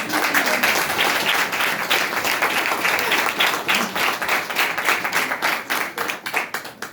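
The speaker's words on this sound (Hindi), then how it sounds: "तो एक बार जोरदार तालियां।" Loud, sustained applause from an audience at a seminar or stage event, dense clapping continuing steadily throughout with no speech over it.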